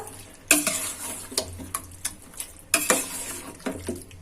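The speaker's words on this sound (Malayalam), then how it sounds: "ഇതിലോട്ട് ചിക്കൻ ചേർത്ത് കൊടുക്കാം. നന്നായിട്ടൊന്ന് ഇളക്കി കൊടുക്കുക." Chicken is stirred into biryani masala in a pot for Ambur chicken biryani, with irregular metal spoon scrapes and clanks against the pot over a low background sizzle.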